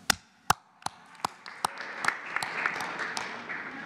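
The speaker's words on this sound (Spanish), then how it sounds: "No, un aplauso." At a presidential press conference, a few sharp, separate hand claps start the applause, then more people join and it thickens into brief, moderately loud clapping from a small group.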